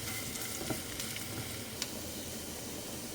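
Garlic frying and starting to burn in a pan, a continuous soft sizzle with a couple of faint clicks of stirring, fairly quiet and with no talking.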